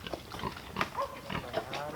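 A pig grunts in the mud on a farm paddock, giving several short, close grunts at irregular intervals with faint background noise.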